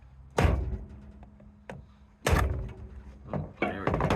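A hammer strikes an OnStar rearview mirror to break it open, landing several heavy, close thunks at uneven intervals with some rattling between blows.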